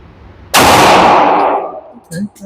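A ported pistol fires one loud, close shot at a shooting target, a sharp blast whose echo rings and decays for about a second before voices start talking.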